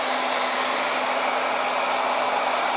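A quick-dry heat tool blows hot air over freshly applied ink in a loud, constant whoosh with a steady underlying hum, running without a break.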